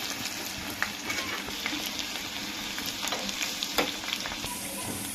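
Onion and curry leaves frying in hot oil as a tempering for dal, a steady close sizzle and crackle with occasional sharper pops, no voices.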